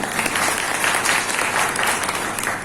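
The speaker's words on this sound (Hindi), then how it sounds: "और आपसे निवेदन है कि एक ताली इनके लिए बन दीजिए।" An audience breaks into sustained applause at a spoken address, dense and even clapping from a sizeable crowd that holds steady throughout without voices rising above it.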